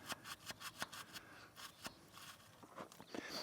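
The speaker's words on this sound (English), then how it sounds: "I'm just going to use this little bore cleaner here to kind of get down in there and get what I can out" A small bore cleaner scrapes out the injector bore on a Ford 4000 tractor, giving a series of short, close scratching and rubbing strokes in an irregular rhythm, quiet and with no speech.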